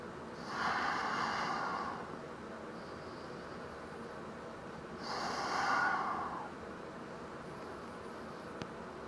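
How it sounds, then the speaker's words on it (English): Deep belly breathing during a seated yoga twist, two long, slow, airy breaths spaced several seconds apart, close and soft against a quiet background. "Breathing deep through the belly."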